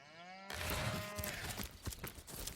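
A sheep bleats in the video game Divinity: Original Sin, with a single drawn-out wavering cry that starts abruptly and fades under ambient game sound.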